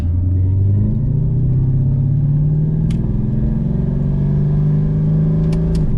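A car engine accelerating in first gear, its pitch rising steadily in a smooth, loud rev with a deep rumble close by and a couple of faint clicks near the end, no talk.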